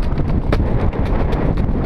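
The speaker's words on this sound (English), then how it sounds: "This is only the second time that I've filmed a horse" A horse's hooves clip-clop in a quick, even rhythm, close and fairly loud, over light wind noise.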